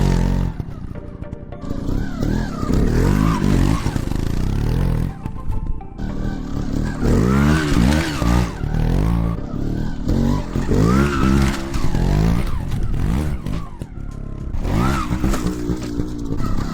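A dirt motorcycle rides up and over a ledge during riding practice, its engine revving hard in repeated bursts with rising and falling pitch, loud and close throughout, with brief throttle drops between surges and no speech.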